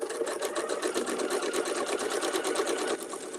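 A sewing machine runs at a steady, even pace, its fast needle clatter and motor hum continuous and close for a few seconds with no talk.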